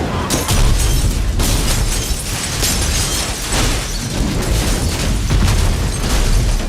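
A Ford Bronco is blown up for a TV show production, a loud, close series of booming blasts with shattering, crackling bursts that roll on continuously.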